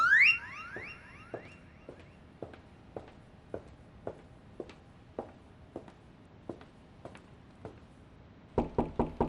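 Knocking on a door at night: a slow series of single raps, evenly spaced, then a burst of louder, quicker knocks at the end, after a brief electronic chirp at the start.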